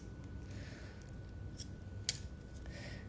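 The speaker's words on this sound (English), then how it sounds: "So I'm just going to cut the jump ring" A single sharp snip rings out as pliers cut a jump ring on a charm chain. It is one brief click, faint but distinct against a quiet room.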